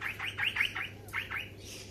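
Several quick, bright chirping calls from a small butcher bird, given close by in a short run of separate notes with a brief pause partway through, over a faint steady low hum.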